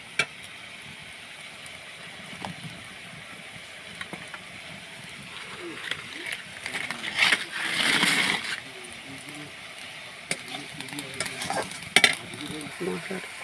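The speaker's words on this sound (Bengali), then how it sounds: "এবার আমি আলু আর মাছের কাঁটাগুলো দিয়ে দিলাম। একটু নাড়াবো।" Potatoes and boal fish bones are stirred in a pan of spiced curry masala, giving a steady low sizzle with scraping clinks from the spoon and a louder burst of frying midway, close and continuous.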